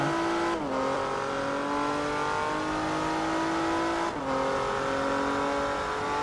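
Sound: race car engine in the video game Forza Motorsport 3

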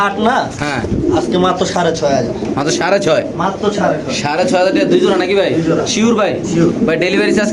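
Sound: fancy pigeons cooing at a pigeon seller's

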